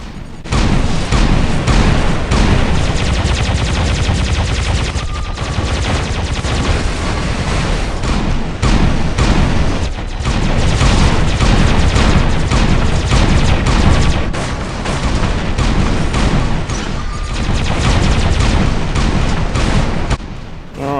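Magnum guns fire in a robot battle video game, a loud, dense stream of gunfire and booming impacts that keeps going for about twenty seconds with almost no letup.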